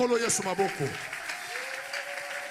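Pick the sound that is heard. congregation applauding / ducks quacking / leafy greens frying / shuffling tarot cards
congregation applauding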